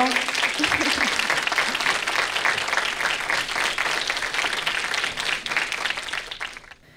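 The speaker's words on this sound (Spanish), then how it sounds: "me permitís que os presente un fuerte aplauso primero" Loud, sustained applause from a conference audience at a plant-based industry closing session, a dense wash of many hands clapping for several seconds before tapering off, with a brief voice at the start.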